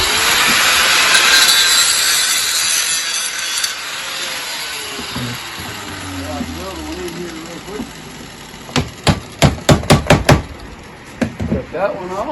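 Cedar wood being sawn for a picnic table feeder: a long rasping cut up close, then a quick run of sharp knocks and taps toward the end.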